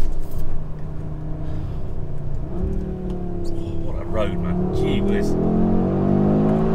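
Audi RS3 Sportback (2022) accelerating hard on a winding road, steady engine drone rising in pitch as it pulls, heard from inside the cabin under excited driver talk.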